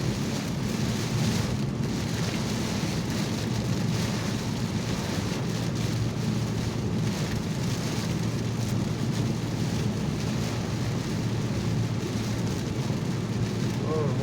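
Steady rain falls during a commute home from work, a constant close hiss and patter with wind noise and a low rumble underneath, unbroken throughout.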